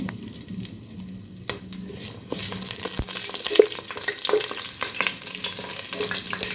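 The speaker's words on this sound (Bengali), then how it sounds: "তেল গরম হয়ে গেছে এখন আমি শুকনো লঙ্কা আর তেজপাতা দিয়ে দিলাম" Dried red chillies and bay leaves frying in hot oil for khichuri, a steady crackling sizzle with occasional sharper pops and stirring scrapes, close and moderately loud with no talking.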